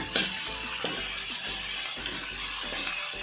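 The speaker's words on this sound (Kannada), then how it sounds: "ಈ ರೀತಿ ಇದನ್ನು ಮಿಕ್ಸ್ ಮಾಡಿ ಸ್ವಲ್ಪ ಫ್ರೈ ಆಗೋದಕ್ಕೆ ಬಿಡೋಣ" Onions, mixed with green chillies, fry in a pan under a constant close sizzle, broken by rhythmic scraping strokes of a stirring spoon about every half second.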